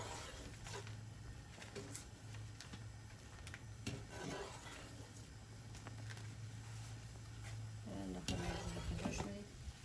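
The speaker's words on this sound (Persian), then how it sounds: "دوستای عزیز چیکن انداختم که جوش بخوره یک دو سه دقیقه" Bite-sized chicken pieces boiling in a pot while cooking chicken with broccoli, with a low steady bubbling hum under scattered utensil clinks and stirring clatter, fairly quiet overall.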